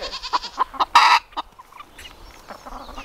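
Backyard hens cluck in quick, close bursts, with one louder squawk early on, then softer scattered clucks and rustling as the flock is offered fermented, sprouted feed.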